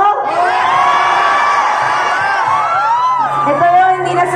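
A large crowd cheers and whoops loudly at a mall event at Sta. Lucia East Grand Mall, with shouting voices and children yelling in a continuous roar.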